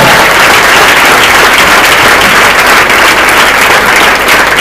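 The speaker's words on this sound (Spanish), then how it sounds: "Dame un aplauso al Señor." A congregation at the JUCUM Argentina 2018 conference bursts into loud, dense applause, a sustained roar of many hands filling the hall throughout.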